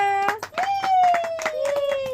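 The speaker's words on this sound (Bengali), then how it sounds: "হাততালি দাও হাততালি দাও" Children and family at a nighttime birthday cake-cutting clap their hands in short, uneven bursts while a voice sings or calls out a long sustained tone over the claps.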